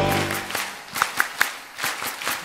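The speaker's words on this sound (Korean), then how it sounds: "손뼉쳐 손뼉쳐" A church congregation claps along during a worship song, a few distinct sharp hand claps spaced roughly evenly over a sustained sung tone and crowd noise.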